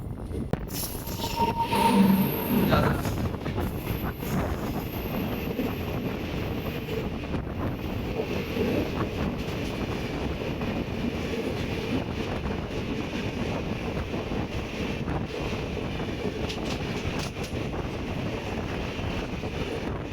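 The Howrah Rajdhani Express rumbles steadily past close by, seen from another moving train, a dense continuous roar with wind buffeting the microphone, briefly louder near the start, with no voices.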